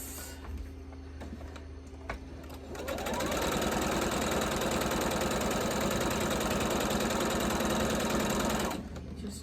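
A sewing machine stitches quilt pieces side by side, its needle running in a fast, steady mechanical chatter after a few seconds of quieter sound, then stopping near the end; nearby and loud.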